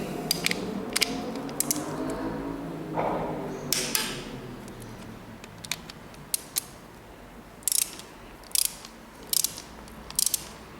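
A torque wrench tightens clutch bolts on a 1978 Suzuki GS 750, with close metallic ratcheting and creaks and then a series of sharp, separate clicks near the end. Nobody speaks.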